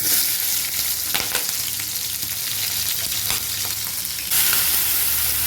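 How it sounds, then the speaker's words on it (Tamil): Cumin seeds, garlic and green chillies frying in oil in a pan, a dense close sizzle with a few scraping stir strokes, which grows louder and brighter near the end; nobody speaks. "இந்த சட்டி வச்சு சீரகம் போட்டு பூண்டு பச்சை மிளகாய்"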